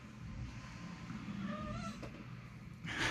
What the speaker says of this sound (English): The kitties are getting up.